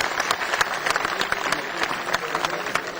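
A crowd at a tent pegging tournament prize ceremony applauds the players with dense, steady clapping lasting the whole stretch, moderately close.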